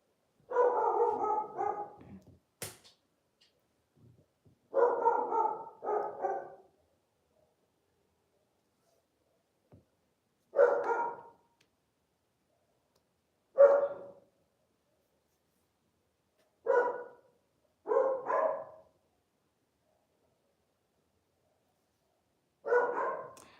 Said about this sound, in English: it's barking because other dogs in the neighborhood are barking